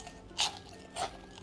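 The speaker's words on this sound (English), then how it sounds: "Hear the crunch?" Two sharp, crisp crunches from biting into crispy fried Nagoya-style salt and pepper chicken wings (tebasaki), close and loud, spaced about half a second apart with no talking.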